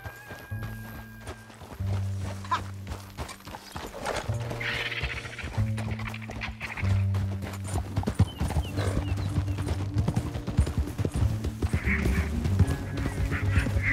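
Horses gallop through a canyon in Red Dead Redemption 2, a steady loud clip-clop of hooves mixed with honking and animal calls and swelling game music, no speech over it.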